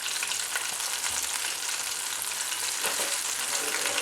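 Fish pieces coated in a crispy fry mix sizzle steadily in hot oil, a dense continuous crackle with occasional small pops and a brief stir or turn partway through, close and alone without any voices.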